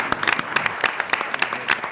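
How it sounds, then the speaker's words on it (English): Scattered applause from a small audience for a panel at a task force meeting, a thin spread of separate hand claps at moderate level with no voices over it. "please let's give a round of applause to this distinguished panel."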